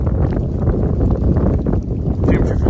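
Strong wind gusting across a foggy stretch of the Appalachian Trail on a cold, damp day, a loud continuous low roar buffeting the microphone, with no clear talk over it.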